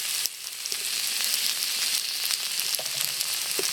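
Tender okra fries with spices in a pan, a close, continuous crackling sizzle with a few brief stirring clicks and no voices.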